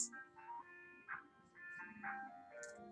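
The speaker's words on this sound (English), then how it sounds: "That darn ice cream truck, it just, it's like, why? You can just hear it." An ice cream truck's tinkling jingle plays a looping chime melody, quiet and steady, with no voices over it.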